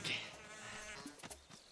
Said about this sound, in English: I'm capturing all these bees. Leave me alone, bees.